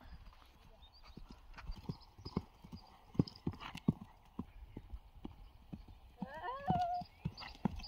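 Horse moving through a warm-up on a riding arena, with steady rhythmic hoof clip-clop throughout and a brief whinny near the end, heard up close with no talk.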